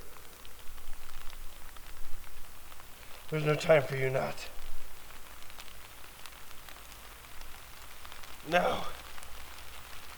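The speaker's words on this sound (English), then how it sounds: "The rain's starting." Rain falls at a spring bushcraft camp with a continuous soft patter on surfaces, while a voice speaks briefly twice over it.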